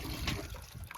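Water running from a tap in a short burst of splashing and trickling, close by and uneven, with no speech.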